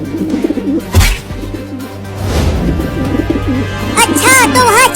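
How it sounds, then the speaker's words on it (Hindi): A cartoon pigeon coos in a few soft, warbling bursts near the end, after stretches of animated voices talking over a background score. "उड़ गया कबूतर"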